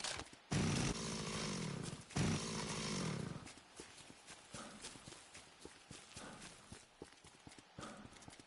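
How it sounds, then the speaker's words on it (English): A very loud chainsaw in Dead Rising Deluxe Remaster roars in two long bursts near the start, then gives way to a rapid, uneven rattling clatter. "Except for the rattle of my very loud chainsaw"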